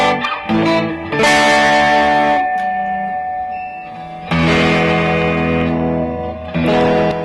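A used Fender Stratocaster electric guitar, plugged in, rings out open chords near the nut through a distorted amp: loud strummed chords that sustain, pause briefly, then strike again, with no voices.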